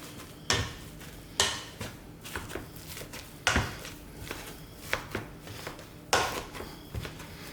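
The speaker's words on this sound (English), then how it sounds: "potato masher. Let's get in and start mashing this away" Boiled, drained potatoes mashed by hand with a potato masher in a pot, a series of separate thuds and scrapes arriving at an uneven rhythm, close by, with no talking.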